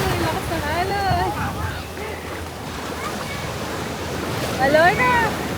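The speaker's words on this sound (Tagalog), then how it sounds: "Lakas ng alon." Strong surf rolls and crashes at a Jacksonville, Florida beach near a fishing pier, a steady roar of waves with wind buffeting the mic, while excited voices shout and talk over it.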